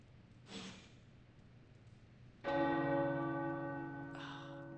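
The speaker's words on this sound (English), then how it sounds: "The tower bells are ringing." Tower bells ring out with a strong, sustained metallic tone that swells suddenly after a soft breathy sound and lingers, followed by a second fainter strike near the end.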